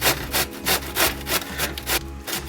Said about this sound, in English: Right, let's get grating this zucchini and we'll put these together.